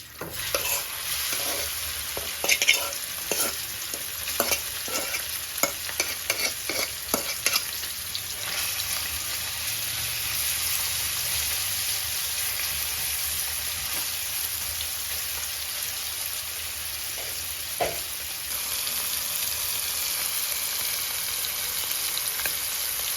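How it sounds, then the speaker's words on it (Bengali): Fish frying in hot oil in a wok makes a continuous dense sizzle with a cluster of sharp spatters and pops early on, then a steady hiss without speech. "ভালো করে যখন গরম হয়ে আসবে তেল তখন আমি মাছগুলোকে দিয়ে দিব"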